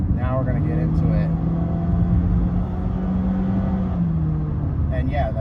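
Honda HR-V AWD EX-L accelerating in S mode, a steady low engine drone that rises slightly and holds, heard from inside the cabin with someone talking over it.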